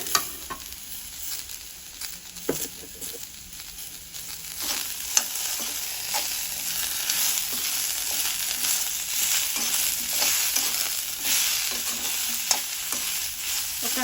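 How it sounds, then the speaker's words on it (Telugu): Carrot chutney with curry leaves and coriander cooks in a pan, a steady close sizzle with repeated scraping stirs and occasional sharp spoon taps against the metal, no talk. "ఇప్పుడు దీంట్లో కొంచెం కరివేపాకు అలానే కొత్తిమీర కూడా వేసేసుకొని ఒకసారి అయితే కలుపుకోవాలి"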